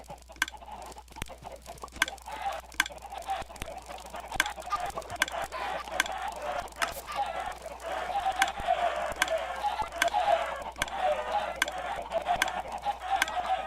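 Many chickens cluck continuously in a Minecraft farm, a dense, steady mass of short clucks building slightly in loudness over a faint low hum.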